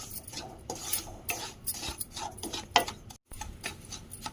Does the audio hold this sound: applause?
no